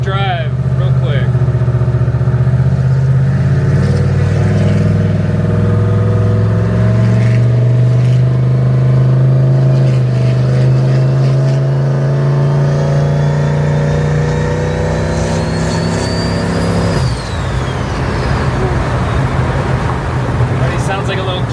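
Ford F-100 pickup engine pulling hard while driving, a loud droning roar with rising harmonics as it accelerates, then a shift and a whining high tone, heard from inside the cab.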